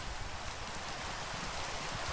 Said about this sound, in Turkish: Kanka yağmur yağıyor.